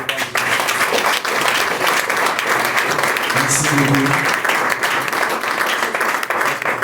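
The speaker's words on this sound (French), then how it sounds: "applaudissez les produits Forever Living Togo" Audience at a Forever Living Togo open day applauding the products, sustained loud clapping from a crowd filling the room, with a brief spoken thank-you heard over it midway.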